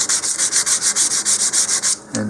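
Close, brisk strokes of 100 to 150 grit sandpaper scrub the seam of a model rocket nose cone in a fast, regular rhythm, then stop abruptly near the end, with no speech.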